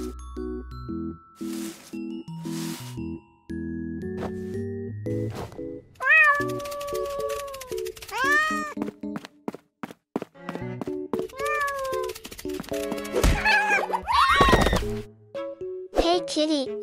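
A cat meows repeatedly, with several distinct rising and falling cries, mixed with chimes, thuds and a voice.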